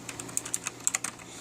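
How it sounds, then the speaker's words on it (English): Keys clicking on a Razer 2016 Ultimate Edition mechanical keyboard, a quick irregular run of about a dozen crisp, close taps that is quiet overall, with no talking. "It has the nice clicking sounds."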